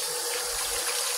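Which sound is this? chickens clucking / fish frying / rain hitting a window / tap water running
tap water running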